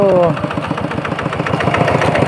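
A farm tractor engine chugs steadily nearby with a rapid, even knocking rhythm, and a voice sounds briefly at the start.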